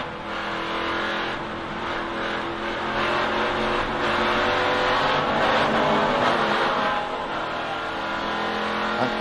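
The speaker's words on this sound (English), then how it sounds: "You heard him, you know, pedaling the throttle" NASCAR race car engine heard from Chris Hacker's in-car audio as the throttle is pedaled at Gateway, a loud, continuous roar with rising and falling revs and no talk.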